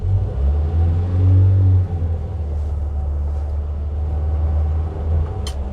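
A Mazda 1000 pulls away with a steady, close low engine rumble that swells briefly near the start, then settles into an even drone.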